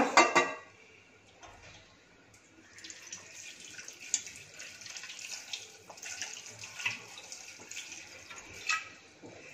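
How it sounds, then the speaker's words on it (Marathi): Cold water pours and splashes over boiled cashew nuts in a strainer in a kitchen, with light clinks of utensils and a short clatter at the start. "यावरती थंड पाणी घालूया."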